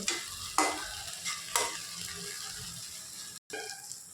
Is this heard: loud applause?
no